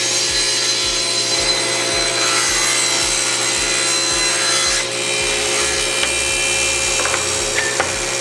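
A table saw cutting through a board pushed against the miter gauge with the fence moved aside: a loud, steady machine whine with a regular low thumping pulse throughout, no talk.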